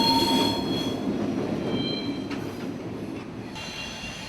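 Santa Fe CF7 locomotives haul loaded rock hopper cars past, with wheels squealing in high tones over a steady rolling rumble and faint rail clatter, without talk.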